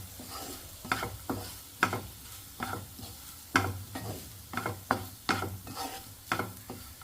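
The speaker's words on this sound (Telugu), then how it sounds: "ఇట్లా ఒకసారి మొత్తం కలపండి." A carrot and coconut fry gets stirred in a pan, with repeated close scraping strokes of the spoon against the pan over a soft sizzle, in an uneven rhythm.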